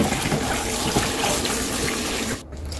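Tap water runs steadily into a sink while komatsuna greens are rinsed to wash soil from the stems, a continuous close splashing flow that stops abruptly near the end; no speech.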